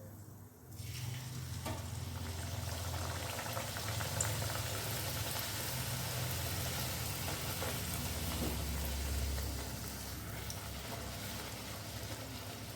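Kachori deep-frying in hot oil, a continuous bubbling sizzle that swells soon after the start and holds steady throughout, close and moderately loud.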